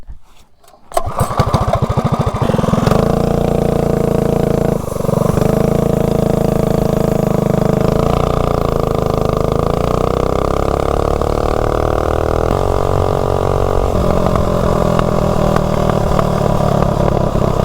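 A Motovox mini bike with a stock Tillotson 212 engine starts up and runs loud and close on a road test, its engine note rising and shifting as it accelerates, with no talking.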